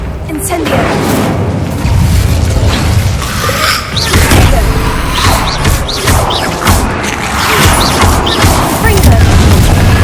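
Fire spell blasts in Hogwarts Legacy combat, loud booming whooshes and crackling bursts repeating over a dense, continuous game soundscape with music and effects throughout.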